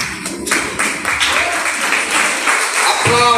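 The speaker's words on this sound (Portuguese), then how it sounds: "Aplaudam, irmãos, a palavra, irmãos, aplaudam" A church congregation applauds in a dense wash of clapping, with a voice talking over the hands and a brief tonal voice near the end.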